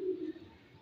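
A short, low coo from an Iranian highflyer pigeon, close and fairly clear at first, then trailing off into a quieter murmur.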